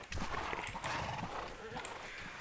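A horse in the video game LEGO Worlds whinnies and its hooves clop over a steady background hum, with a brief sharp chirp near the end.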